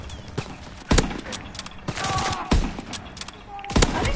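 Gunfire in an online shooter video game: several sharp, loud shots burst out at irregular intervals over a busy background, with players' voices faintly present.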